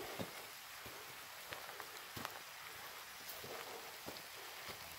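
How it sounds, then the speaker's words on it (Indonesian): Rain falling during a hike on Mount Kelud, a soft continuous hiss with scattered individual drop taps, faint and steady, with no one speaking. "Sebentar ini hujan turun."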